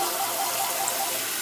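Kitchen tap running steadily into a sink, a continuous close hiss of water with no break, alone without talk.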